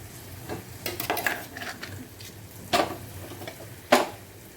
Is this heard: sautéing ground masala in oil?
yes